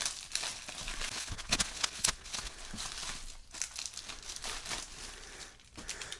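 Plastic packaging of a Type C mini 4x4 toy crinkles and crackles close up as it is opened, in irregular bursts of rustling and sharp snaps, with no talk.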